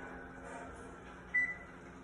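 Single short electronic beep from a kitchen oven being set to preheat to 375, faint room hush around it.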